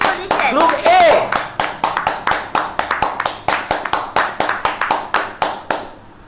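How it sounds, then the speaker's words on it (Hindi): Clapping for the winner of an online public speaking competition: a brisk, even run of crisp, loud claps close by, starting just after a brief bit of talk and continuing steadily to the end. "तो जोरदार तालियां हो जाए निधि सिंगल के लिए"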